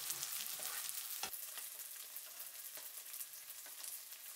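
Shallot sizzling in hot oil in a pan over high heat, a steady bright hiss with a few soft stirring knocks, close and constant throughout.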